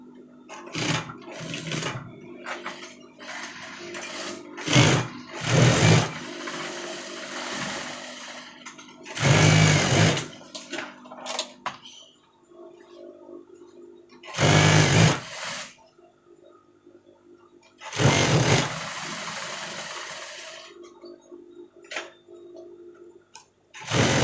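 A sewing machine stitches the front lining of a jacket in repeated bursts, each run a few seconds long with short quiet gaps between, loud and close with no talking.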